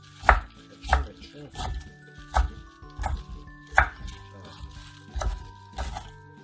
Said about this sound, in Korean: 이렇게 양배추는 썰어주겠습니다